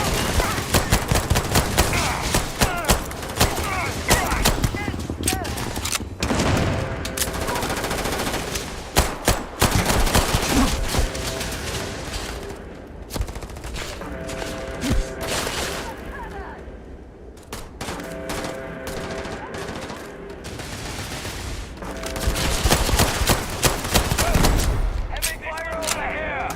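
Sci-fi gunfire in Starfield combat, repeated bursts of rapid automatic shots and heavy single blasts close by, with short lulls between volleys.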